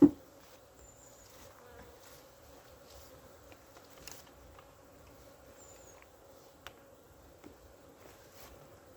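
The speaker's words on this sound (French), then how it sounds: "il faut que je fasse attention pour pas non plus perdre des abeilles" Honey bees hum faintly at a hive during a winter varroa treatment: a low, steady drone broken by a few soft taps and clicks, with no talking.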